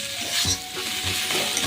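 Gime greens stir-fried without water in a pan on a low flame, a close, steady soft sizzle punctuated by several scraping strokes of a spatula against the pan.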